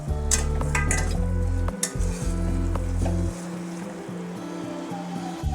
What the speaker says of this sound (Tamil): இப்போ இதில் மசாலாவோட பச்சை வாசனைலாம் போகிற அளவுக்கு நம்ம வேக வச்சுக்கலாம்.